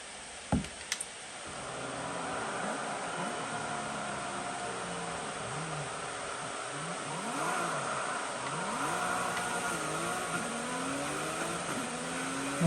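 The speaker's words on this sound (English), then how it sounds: "but the fans are pretty loud" Fans of an ASUS Zephyrus G14 gaming laptop from 2022 with AMD Advantage, running in turbo mode, give a steady, loud broadband whoosh with a few brief clicks at the start and no talking.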